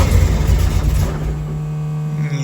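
The engine of a 1966 Barracuda race car runs on a build bench, with a loud, rough rumble at first that settles into a steady, droning idle hum, close by and with no talk.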